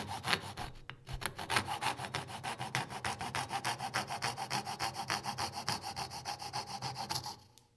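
A coping saw cuts through wood in quick, regular back-and-forth strokes, a close rasping rhythm that keeps going before stopping.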